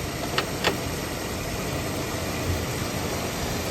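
A Mercury Zephyr car engine idles with a steady, even rumble and hiss, with two faint clicks near the start and no talking.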